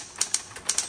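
Sharp, close keystrokes from a 1970s Smith Corona Electra 120 electric typewriter, metallic blue, land as about five crisp clacks in quick, slightly uneven rhythm over a faint motor hum.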